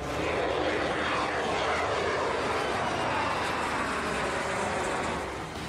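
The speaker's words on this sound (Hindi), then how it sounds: "ये दोनों ही स्टेलथ फाइटर जेट हैं जो रडार की पकड़ में नहीं आते हैं।" A stealth fighter jet flies overhead with a steady, loud, broadband roar that holds for several seconds and eases slightly at the end, with no voices.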